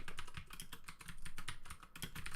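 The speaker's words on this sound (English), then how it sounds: "Trying to get my typing speed up." Quick typing on a computer keyboard during speed practice, a dense, close run of crisp key clicks with a brief pause partway through, no voices.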